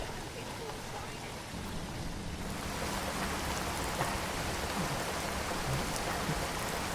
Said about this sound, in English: this is already summer, but it still has hail